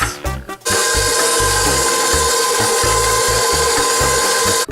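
Cookie cake batter of sugar and eggs being mixed, a steady close whirring and rubbing drone that runs almost without pause after a brief uneven start.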